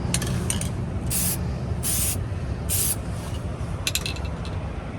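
Several short bursts of spray paint hiss on a worn leather seat from a Tesla Model X, each a second or so long, with faint clicks and handling noises in between.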